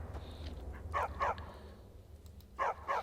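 A dog in the Skyrim game barks in two short pairs of loud, close yaps, with a quiet pause between them over a low ambient hum.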